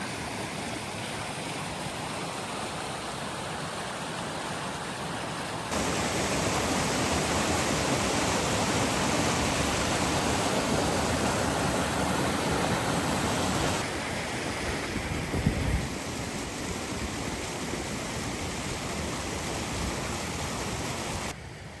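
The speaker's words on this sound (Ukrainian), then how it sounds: "навіть невеличкі струмочки і ті порозливалися" Swollen mountain streams rushing after rain in the Carpathian forest, a dense steady hiss and roar of flowing water, close and continuous, with a slight rise in volume partway through and no talking.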